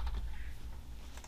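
A few quiet, quick keystrokes tap on a computer keyboard, faint and close, with no voices.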